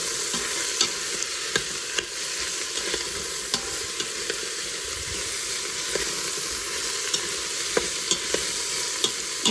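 Mixed vegetables fry in a pot for soup with a steady, soft sizzle and hiss. Faint scrapes of stirring tick through the sizzle at intervals.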